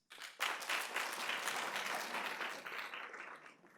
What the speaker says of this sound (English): Clap your hands if you were born and raised